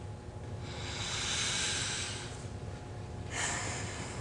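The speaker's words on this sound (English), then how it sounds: "take one finger and hold your nose one side and then take a deep sniff in" A deep patient sniff in through one nostril during a physical nose exam, a long airy inhale followed by a second shorter sniff, close and alone with no talk.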